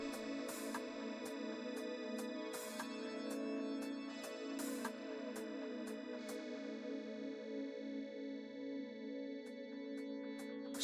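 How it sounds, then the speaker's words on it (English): A metronome ticks in a steady beat alongside a layered music mix with sustained tones and drum hits, the clicks regular and fairly prominent throughout. "I'm going to put the metronome on so that we know where we are again"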